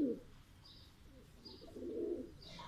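Pigeons on a rooftop give soft, low cooing calls, several short coos spread through the stretch. They are quiet and somewhat distant, with faint higher chirps between them.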